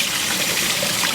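Cold tap water pours steadily over cooked noodles for Filipino lomi, a continuous splashing gush with no voices.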